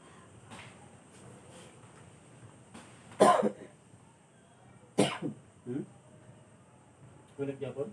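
A person coughs twice in sharp, close bursts during a massage session, followed by a few softer throat-clearing sounds, with quiet talking in the background.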